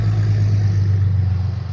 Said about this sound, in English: really loud trucks.